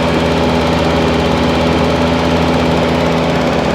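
A M151 military jeep engine idles loud and close, a steady unbroken rumble with an even vibrating hum that holds without change from start to end.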